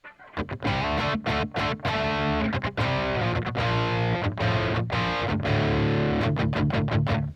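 Heavily distorted electric guitar, without compression, plays chords and riffs with a thick, saturated, buzzing tone, loud and continuous with brief choppy pauses between phrases.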